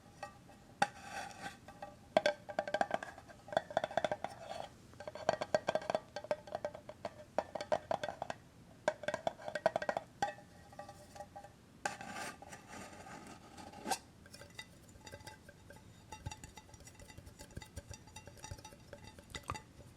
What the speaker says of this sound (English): I should clean this brush off first with this little brush cleaner in this tin here.